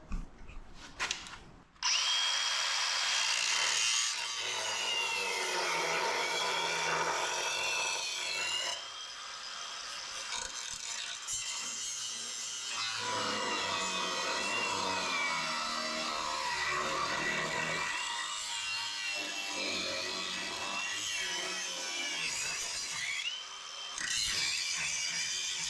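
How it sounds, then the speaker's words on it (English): A reciprocating saw (Sawzall) runs loud and continuous as it cuts through square-body truck front suspension, with short pauses and changes in pitch as the blade bites. "I think we're gonna have to finish this with a sawzall."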